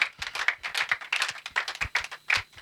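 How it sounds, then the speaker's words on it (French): A congregation at a prayer service claps in quick, uneven bursts, many hands close by and fairly loud, a brisk irregular rhythm without voices over it. "Acclame bien maintenant"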